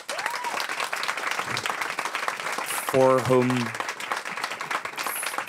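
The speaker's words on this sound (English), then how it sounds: "give a warm, very very warm applause to the guides here" A book talk audience on designing cities claps warmly for the guides, a continuous wash of many hands throughout, briefly overlapped midway by a speaking voice.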